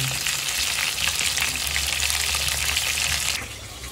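Pieces of chicken fry in hot oil with a steady, dense sizzle that fills the scene from close by, then drops noticeably quieter near the end; no one speaks.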